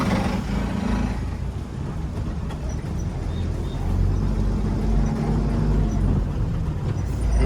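Congested road traffic with cars and buses on a long highway drive, a steady low engine rumble and drone of surrounding vehicles, with no one speaking.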